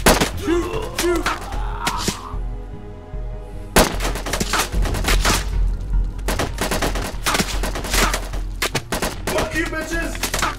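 Rapid bursts of gunfire in a VR shooter game, loud and close, coming in dense volleys separated by brief pauses, with shouted voices between some bursts.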